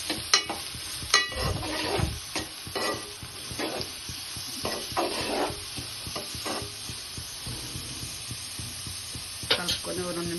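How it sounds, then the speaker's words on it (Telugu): Chopped radish is stirred into frying onions in a pan, with scraping stirs and soft sizzling in irregular bursts, close and moderately loud, and a voice speaking at times. "ముందుగా కట్ చేసుకున్న రాడిష్ అనేది వేసుకోవాలి. వేసుకొని కలుపుకోవాలి."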